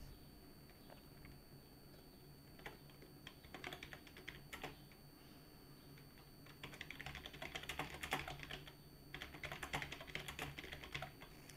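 Rapid clicking of a computer keyboard being typed on, in uneven bursts that grow busier and louder toward the end, with no talking.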